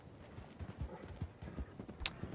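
Horse hooves clip-clopping in the Red Dead Redemption 2 Online video game, a short run of soft, evenly paced hoof falls over a low in-game background murmur.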